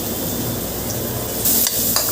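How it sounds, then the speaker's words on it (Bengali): Garlic frying in oil with red spinach in a pan, a loud, dense sizzle with a brief burst of crackling partway through, no talking. "রসুন দিয়ে দিলাম ভাজার জন্য।"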